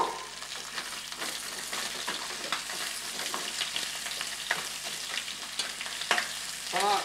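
Pieces of lobster sauté in a hot pan, giving a steady close sizzle broken up by scraping and stirring clicks, with no talking over the frying.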